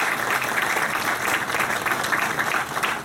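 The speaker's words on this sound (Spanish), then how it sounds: "Fuertes aplausos por favor para los expositores de la tarde del día de hoy." An audience at a seminar gives a sustained round of applause for the afternoon's speakers, with dense, even clapping filling the room at close range.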